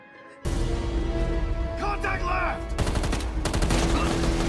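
Sustained gunfire sound effects from a firefight between Serbian forces and a special team, a dense crackle of shots that starts abruptly and continues under a brief stretch of voices.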